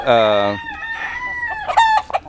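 Chickens nearby in summer heat let out a loud drawn-out crow followed by a run of clucks and squawks.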